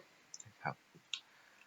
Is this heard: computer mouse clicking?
yes